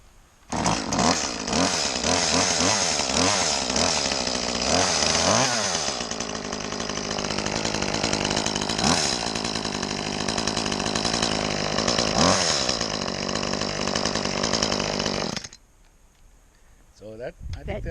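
A chainsaw runs loudly and continuously at close range, its engine revving up and down in repeated surges before cutting off abruptly near the end.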